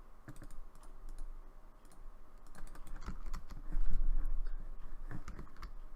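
Rapid clicking on a computer keyboard during a Cities: Skylines game session, a dense run of close key taps that grows busier and louder toward the middle before easing off.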